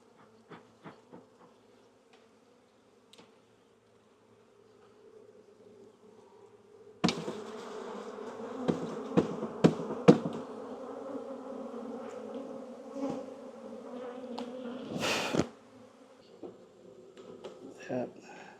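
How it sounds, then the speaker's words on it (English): Honeybees buzz steadily, growing louder and denser midway, with scattered clicks and knocks of handling close by. "Got bees on every frame down there."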